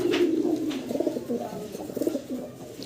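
Pigeons coo steadily at a breeding loft, a continuous low throaty warble that rolls on for about three seconds with soft overlapping calls close by.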